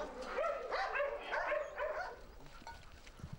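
Mine-detection dogs on their way to daily training in Kabul bark in a run of several overlapping, moderately distant barks and yips, fading after about two seconds.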